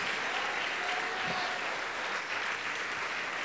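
A church congregation applauds during a sermon, an even wash of many hands clapping heard from some distance at fairly low level, with no words spoken.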